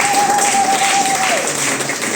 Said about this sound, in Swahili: Hebu simpigie Yesu makofi.